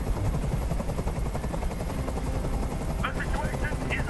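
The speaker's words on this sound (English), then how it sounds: "Tell that helicopter to get out of here." In the Detroit: Become Human hostage scene, a hovering helicopter drones with a low, rapid rotor thump throughout, steady and loud, while a voice speaks briefly near the end.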